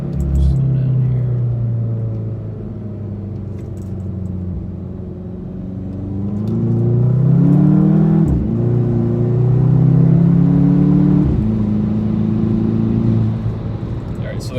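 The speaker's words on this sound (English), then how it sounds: "The car definitely spools up a lot quicker." A Cadillac CTS with a turbo outlet pipe fitted accelerates through the gears from second, engine tone rising and falling with each shift, a loud in-cabin rumble swelling and easing over several pulls.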